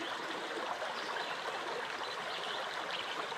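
A clear river flowing over rocks at a trout fishing spot, a steady close rushing and trickling wash that fills the whole moment with no voices.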